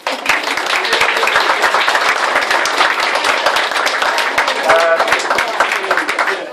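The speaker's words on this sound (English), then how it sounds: "Give yourself a round of applause." Wedding guests break into a loud, sustained round of applause at a reception, a dense wash of clapping hands filling the room, with a few voices calling out within it.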